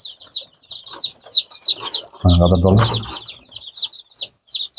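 Andijan black chicks kept in a small homemade one-by-one-metre pen give repeated high, quick peeping chirps in a steady run, with a brief burst of a voice speaking in the middle.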